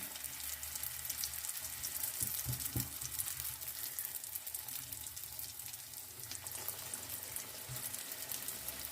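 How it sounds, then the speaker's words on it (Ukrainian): Cabbage-filled pies frying in heated oil in a pan, a steady soft sizzle and crackle that keeps going throughout with no talking. "І так будемо смажити всі пиріжечки"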